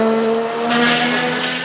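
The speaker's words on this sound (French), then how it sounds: "on était sur un son de moteur de BMW M3 DTM de l'époque" A BMW M3 DTM racing engine from the touring-car era holds a loud, steady, high-revving note with strong harmonics, heard alone at close range.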